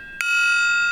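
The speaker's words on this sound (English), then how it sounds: "Gong." A single metallic strike used as a gong sound effect on an indie game review show, with a sharp attack and a bright, steady ringing tone that sustains for the rest of the second, heard alone.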